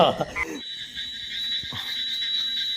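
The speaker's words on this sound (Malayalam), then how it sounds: "കുഞ്ഞ് പീക്കിരി തവളകളായി ഇരുന്നിട്ട് ക്രാ ക്രാ എന്ന് പറഞ്ഞിട്ട് കരയണത് കേട്ടാ" Small frogs croak in a steady, high-pitched chorus, a thin continuous trill at moderate distance, with a brief jumble of noise at the start.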